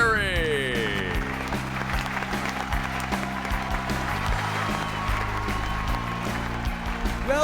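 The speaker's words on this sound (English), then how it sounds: "I love fake applause." Canned applause sound effect played on a talk show, a steady wash of clapping running through the whole stretch alongside a musical intro jingle.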